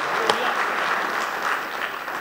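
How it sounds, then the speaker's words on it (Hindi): Audience applause at a mushaira in Ambedkar Nagar as a Hindi-Urdu poet is called to the stage: steady, dense clapping from a crowd, loud and sustained throughout with no voices over it. "एक बार दोनों हाथ ऊपर उठाइए और ताली बजा के बुलाइए मोहन मुंतजिर को।"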